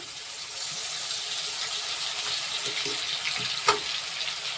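Cumin seeds and garlic fry in hot oil with a steady, fairly quiet sizzle and light crackling throughout, plus one sharp clink of a utensil near the end.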